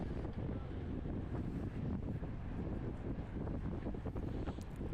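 A strong headwind roars steadily over the microphone during a bicycle race at nearly 30 miles per hour, a constant loud rush of buffeting wind noise with no speech.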